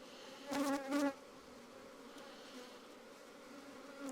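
Honeybees swarm around a hive where a new queen has hatched, giving a steady soft buzz that swells briefly as bees pass close, then settles into a faint background hum with no talking.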